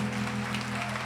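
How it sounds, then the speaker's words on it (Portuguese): A church congregation applauding during a worship conference session, a steady wash of clapping from many hands filling the room throughout, no speech over it. "Você pode aplaudir Jesus?"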